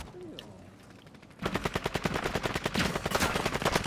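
Rapid automatic gunfire in a video game breaks in after a quiet stretch, then carries on as a loud, fast, steady stream of shots.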